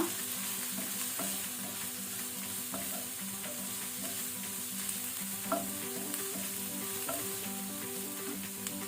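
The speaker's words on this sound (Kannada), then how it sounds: "ಇದನ್ನು ಸಹ ಹೈ ಫ್ಲೇಮ್ ಅಲ್ಲಿ ಸ್ವಲ್ಪ ಫ್ರೈ ಮಾಡ್ಕೊಳ್ಳುವ." Sliced capsicum fries on a high flame in a pan for pav bhaji, a continuous soft sizzle with intermittent scraping and tapping of a stirring spoon against the pan, heard alone with no voices.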